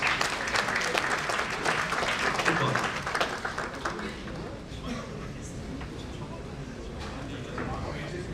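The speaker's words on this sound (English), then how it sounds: "please, with a huge and a thundering round of applause, welcome Professor Davies to the podium." Loud audience applause at a rural futures event in the Himalayas greets a professor coming to the podium, dense steady clapping that eases slightly after a few seconds while a voice talks faintly underneath.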